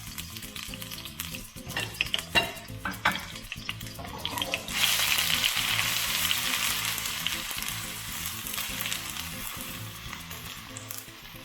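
Rice frying in a hot pan for nasi goreng, with a few clanks of a utensil at first and then a loud, steady sizzle that fades slowly, with no talking.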